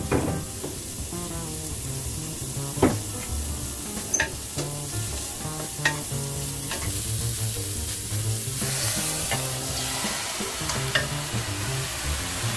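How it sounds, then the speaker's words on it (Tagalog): Onion frying and being stirred in a pan for squid ink spaghetti sauce, a steady close sizzle broken by sharp scrapes and clinks of the utensil against the pan. "Lagyan na natin ang onion."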